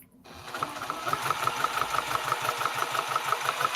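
A sewing machine runs steadily at close range, its needle making a rapid, even mechanical chatter and hum that starts abruptly and keeps going for several seconds.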